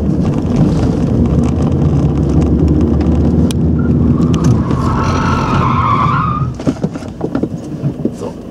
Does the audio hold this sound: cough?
no